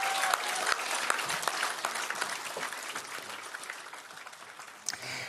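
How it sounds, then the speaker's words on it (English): An audience at a televised federal election coverage event claps steadily for a departing politician, dense applause that holds for several seconds and then thins out near the end. "Give him a clap."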